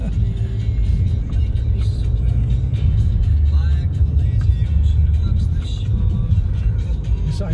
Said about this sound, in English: Look at the traffic outside